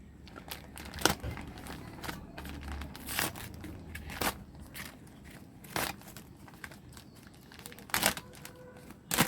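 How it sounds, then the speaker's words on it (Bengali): A toy airplane is unpacked from its plastic packaging with repeated close crinkling, crackling and tearing bursts at an irregular rhythm, with no talk. "চলো আমি এটাকে আনপ্যাক করে ফেলি।"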